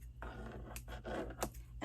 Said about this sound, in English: and I just use my kitchen scissors.